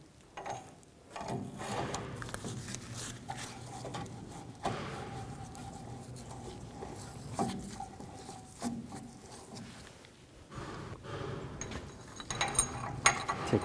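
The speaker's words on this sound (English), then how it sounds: "Now install the hub." Metal parts clatter and click with a ratcheting, mechanical rattle as a wheel hub is fitted on a 1999-07 Chevy Silverado 2500, a steady run of close-up handling noises with uneven bursts.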